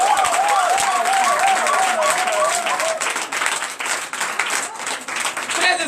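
A church congregation at an Easter Sunday service in Benin applauds and cheers loudly and steadily throughout, with a high sung or shouted voice weaving above the dense clapping crowd early on.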